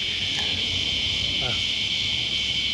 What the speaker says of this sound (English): bugs are crazy loud tonight, so cicadas.